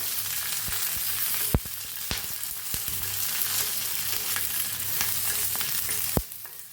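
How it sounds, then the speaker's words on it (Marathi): Green chilies, peanuts and garlic sizzle and crackle in hot oil in a village kitchen while a spoon scrapes and stirs the pan, with a few sharp knocks against a steady frying hiss. "आता तेल वतूया आपण, मस्त भाजायला आले आपले मिरच्या शेंगदाणे लसूण। आता याला हलवून घेऊया"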